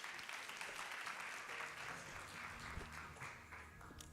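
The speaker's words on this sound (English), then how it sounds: "A round of applause for Janice, please." Steady, dense applause from a conference audience at a trade and industrialisation roadshow in South Africa, a continuous wash of clapping filling the hall for several seconds without talk over it.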